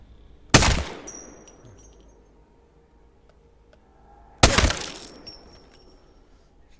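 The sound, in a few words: light and submachine gun headshots in Apex Legends video game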